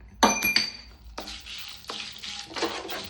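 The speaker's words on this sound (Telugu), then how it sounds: "వీటిని కూడా చక్కగా కరకరలాడేటట్టు వేయించుదాం" Coriander seeds, chilli seeds and cumin frying and crackling in a hot pan, with stirring scrapes and light clinks of a spoon against the metal, close and steady with bursts of sizzle.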